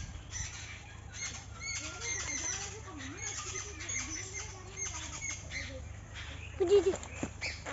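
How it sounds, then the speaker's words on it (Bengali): An unseen bird calls outdoors in the morning, repeating short, warbling cries at moderate distance over steady background noise, with a louder burst near the end. "কি সুন্দর পাখি ডাকছিল"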